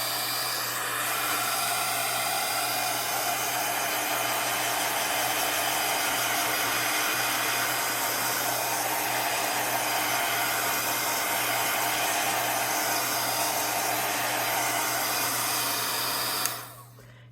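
A heat tool blows steadily and loudly for about sixteen seconds while drying a bowed mixed media craft piece, the constant whooshing roar holding until it clicks off abruptly at the end.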